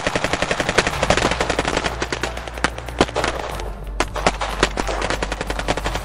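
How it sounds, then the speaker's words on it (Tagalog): Rapid bursts of soldiers' rifle and automatic gunfire crackle continuously, loud and close, with sharp individual shots standing out among the rattling volleys. "Putok ng kanilang mga baril."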